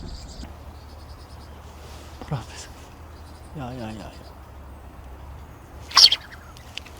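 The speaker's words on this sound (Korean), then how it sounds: "조그만 새들이 막 제잘제잘 거리는 소리가." Small birds chirping in a wide reed field, scattered faint calls and a sharper chirp over a low outdoor hum, with a person's voice briefly heard.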